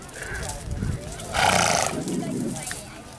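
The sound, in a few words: horse snorting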